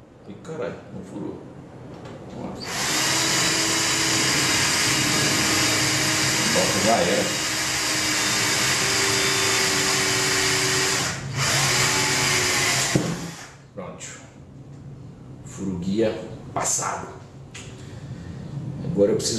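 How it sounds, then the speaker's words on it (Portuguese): A Black and Decker power drill strains to bore through material while a kegerator is assembled, a loud sustained whine of about ten seconds with a brief pause, then scattered clatter and someone talking. "Black and Decker. Bichinho tá suando pra furar."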